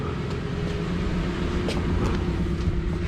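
A 1999 Infiniti Q45 with a VH41DE V8 idles, its rough-idle fault now fixed. It gives a steady, even, close-up hum without a break, and faint clicks and ticks sit on top of it.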